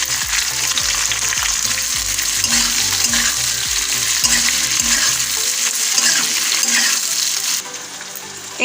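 Chopped onion and capsicum sizzle loudly in a hot pan for chili chicken, with a steady frying hiss and rhythmic scraping stirs that stop partway through, leaving only the sizzle.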